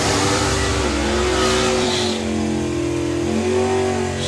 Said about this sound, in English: I heard some throttle womping going on down the other end, and that wasn't a turbo car.